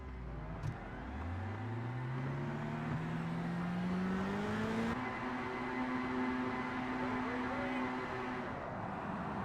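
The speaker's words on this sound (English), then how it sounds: "Revs are rising then here." Race car engines in iRacing at Brands Hatch Indy circuit rev up at the start, a loud climbing whine that rises steadily in pitch, steps up sharply midway, then holds high and sustained.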